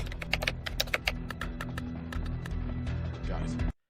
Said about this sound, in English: Okay, so you're watching him type it in.